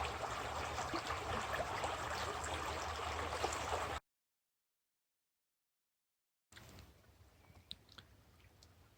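Shallow Piedmont creek running through silty clay banks at Mayo River State Park, North Carolina, a steady close trickle and babble that cuts out to silence midway, then returns fainter and gentler.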